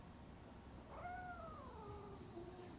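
Grumpy, a cat in the video game RoboCop: Rogue City, gives a single drawn-out meow with a rising then falling pitch, heard clearly over a steady background hum of game ambience.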